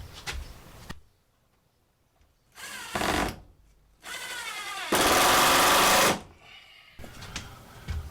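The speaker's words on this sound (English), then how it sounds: "I'm just pre-drilling everything." A drill pre-drilling holes in tongue and groove wood for a van ceiling, several short close whirring bursts of rising pitch, the last one longest and loudest, with quiet gaps between.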